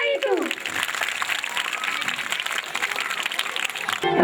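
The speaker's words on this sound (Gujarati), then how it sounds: "તો આપણે તેને તાળીઓના ગડગડાટથી વધાવીશું." Audience applause at a school annual function, steady crowd clapping following a short spoken announcement, moderately loud and sustained to the end.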